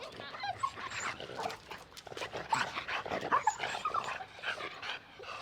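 Dogs whimper, whine and pant during an obedience training session, close and fairly soft, in uneven bursts with short pauses between them.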